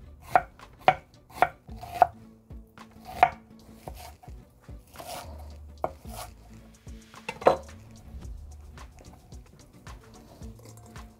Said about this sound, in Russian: сразу порежем свежий лучок